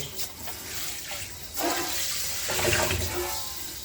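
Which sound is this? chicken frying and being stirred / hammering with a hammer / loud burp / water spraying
water spraying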